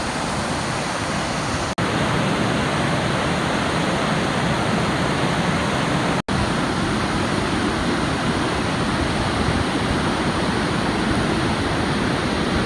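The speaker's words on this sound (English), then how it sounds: "Now that reservoir is already going over the top, so all this water is heading up towards the Murray River." Floodwater roars steadily over the brimming Laanecoorie Reservoir, a loud, unbroken broadband rush of spilling water heard close up, with no voices.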